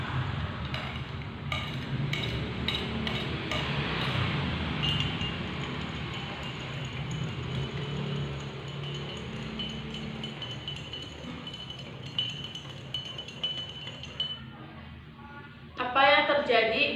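A spoonful of sand is stirred into a glass of water, giving a soft grainy swirl with faint clinks of the spoon against the glass and a louder rattle at the end.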